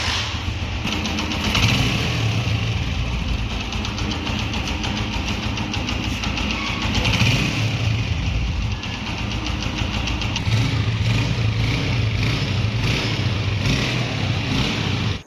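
A motorcycle engine idles steadily and evenly after a tappet valve clearance adjustment, a continuous close, fairly loud running note that holds for about fifteen seconds with no talking.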